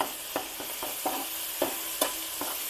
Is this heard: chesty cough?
no